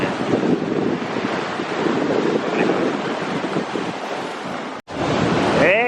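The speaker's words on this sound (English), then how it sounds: "We're getting out of here before the waves come in a bit further." Ocean surf rolls continuously onto a beach, a broad roar of breaking waves pushed by heavy wind buffeting the microphone, with a momentary dropout near the end.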